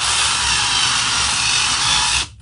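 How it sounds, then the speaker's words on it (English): A power drill whirs loudly and close while working on a tire, holding a steady high whine for about two seconds before stopping abruptly. "Oops, sorry, drilled the wrong direction."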